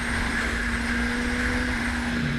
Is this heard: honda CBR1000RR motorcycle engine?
yes